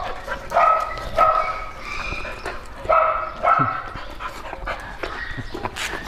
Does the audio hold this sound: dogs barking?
yes